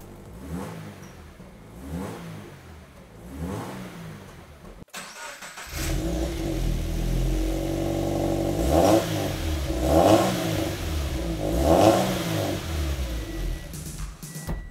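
A car engine idles roughly through a newly installed aftermarket exhaust, then fires up louder and revs repeatedly, rising and falling in several deep, throaty bursts.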